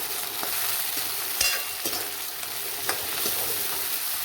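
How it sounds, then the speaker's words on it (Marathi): Chopped onion, tomato and coriander sauté in a pan with a continuous close sizzle, broken by several sharp scraping stirs of a spoon, and no voices. "थोडंसं मऊ होईपर्यंत त्याला परतू."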